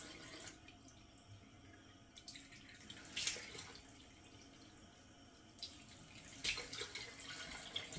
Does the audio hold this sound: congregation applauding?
no